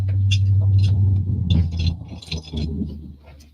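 A big truck rumbles past outside, a heavy low drone that holds steady and then fades away as it passes. Scattered faint higher noises sit on top of the rumble.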